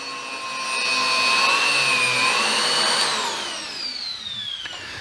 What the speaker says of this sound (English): while the machine is on, you can turn off the brush roll, go straight to your bare flooring, and then right back to your carpets